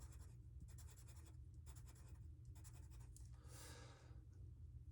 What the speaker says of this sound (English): I'll draw some tread.